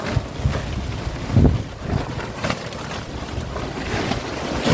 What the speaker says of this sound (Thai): ทั้งเสียงลมนะพี่น้อง